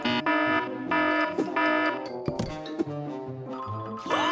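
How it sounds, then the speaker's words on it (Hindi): A shrill electronic alarm blares in repeated pulses from a hidden secret room's safe, loud and close, broken by a brief clatter midway before the tone resumes. "अलार्म नहीं, बंद हो जाओ।"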